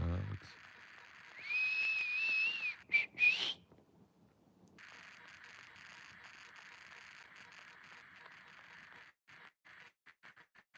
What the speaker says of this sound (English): So I give them 2 or 3 whistles.